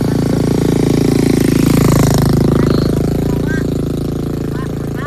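Motorcycle engines drone loudly along a rural road, a steady close hum that swells and fades as one passes, with people talking faintly over it.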